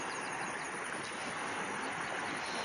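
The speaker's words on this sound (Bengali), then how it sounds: "কেমন ঢেউ উঠছে দেখো খালি।" A cold river runs past its bank with small waves, a faint, steady rushing wash of water with no voices.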